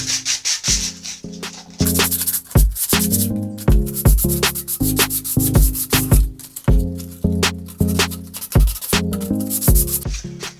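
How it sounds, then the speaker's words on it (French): Sandpaper scrubbing the male end of a PVC pipe: loud, close, rhythmic back-and-forth rasping strokes in quick steady bursts with brief pauses. "on ponce correctement la partie mâle emboîtée"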